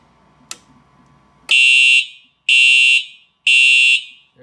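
A Simplex 4009 IDNet fire alarm horn blares in three loud, evenly spaced half-second blasts after a faint click, very close and alone with no talking.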